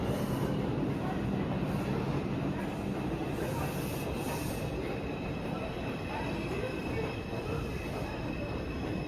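Inside a New York subway 5 Bronx local train, a steady loud rumble of wheels and car noise fills the space, with faint squeals and rattles throughout and no talking.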